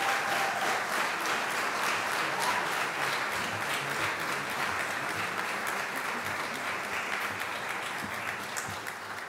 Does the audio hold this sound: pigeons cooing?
no